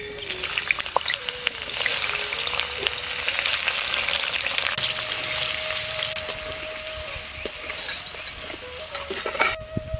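Carrots frying in white oil in a wok, a steady loud sizzle with crackling and occasional stirring clatter throughout, no talk.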